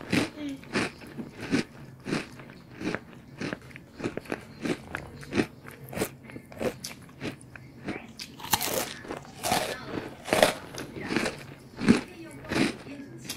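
Crunchy chicken wings bitten and chewed up close, a steady run of sharp crisp crunches and wet chewing bursts across the whole stretch, loud and near with no talking.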